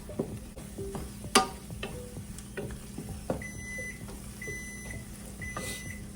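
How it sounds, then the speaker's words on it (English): A kitchen timer beeps in short repeated tones, fairly faint, while food sizzles and a utensil clinks in a home kitchen during cooking of chorizo for burritos. "my timer's going off"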